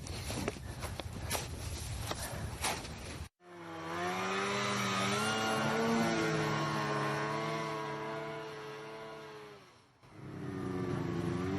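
A snowmobile engine on a snowy trail drones steadily for several seconds, its pitch rising and falling as it runs, framed by rougher rustling noise before and after.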